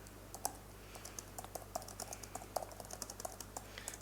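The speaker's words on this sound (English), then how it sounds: "So let me just type out the logic here." Rapid keystrokes on a computer keyboard in a quiet room, with irregular clicking bursts over a low steady hum and no talking.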